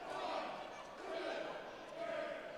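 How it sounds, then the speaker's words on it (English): Wrestling arena crowd chanting in unison as punches land, a dense roar swelling in rhythmic waves about once a second, loud and continuous. "The crowd counting along with these punches."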